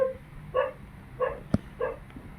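A dog barks several times in short, spaced bursts, with a sharp click or thump between them; fairly quiet and somewhat distant, no talking.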